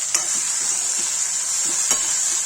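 Okra (bhindi) fries in a pan with a steady, loud sizzle throughout, with a couple of soft scrapes as it is stirred.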